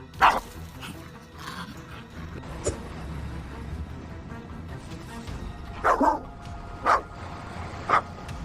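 Dogs fighting monkeys bark in sharp bursts, a few loud yelps spaced apart, amid outdoor background noise; the monkeys are not clearly heard.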